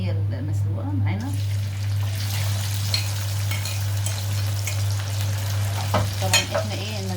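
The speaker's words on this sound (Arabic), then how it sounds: "معاكم صوت القرمشه بتاعت البطاطس لو سامعين" Boiled potatoes fry in a large pan, a steady broad sizzle with a low constant hum underneath and occasional clinks of stirring.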